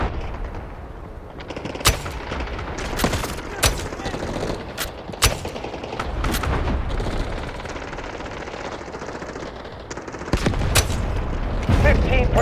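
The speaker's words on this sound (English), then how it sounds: "Artillery barrage ready." Artillery barrage in the Delta Force video game: repeated sharp booming impacts and gunfire bursts crash over a steady roar of battle, loud and close, with scattered blasts throughout.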